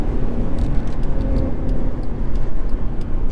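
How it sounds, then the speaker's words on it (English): A 2013 Mercedes C63 V8 rumbles loudly and continuously from inside the car with the sunroof open. Dense low engine roar is mixed with faint ticking, and no voices are heard. "This is a proper V8."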